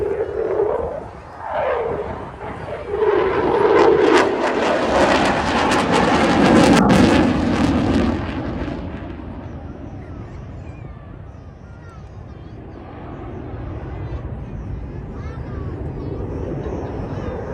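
An aircraft flying a display at Bournemouth Airshow 2022 roars overhead, swelling loud and then fading to a steady distant drone, with a commentator's voice running over the engine noise.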